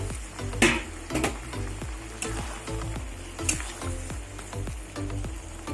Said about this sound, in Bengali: এবার ভাজা পটলগুলো দিয়ে দেবো